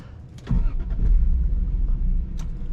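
A 1990s manual-transmission car engine cranks briefly and catches, settling into a steady, loud, low idle rumble close by.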